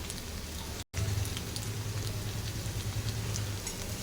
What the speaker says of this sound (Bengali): এবার এক একটা পকোড়া ভেজে নেব। এবার পকোড়াগুলো দিয়ে দিলাম